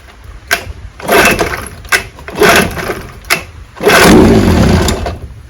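A 1968 Evinrude 9.5 HP outboard motor is pull-started several times: rough whirring bursts from each cord pull, and on the last pull it catches briefly and sputters for about a second before dying, close and loud.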